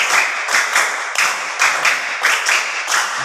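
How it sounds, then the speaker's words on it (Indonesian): Rhythmic group clapping from a classroom of children doing a counted clapping game, loud close bursts falling in a regular repeating pattern of paired claps. "tepuk 5 2 kali"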